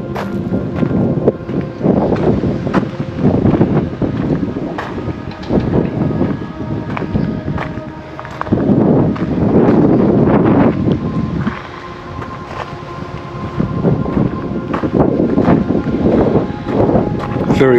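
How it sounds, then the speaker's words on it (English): Strong wind buffets the microphone outdoors at memorial gardens, a steady loud rush and rumble through the whole stretch with gusts swelling and easing, while people talk intermittently beneath it. "Very windy."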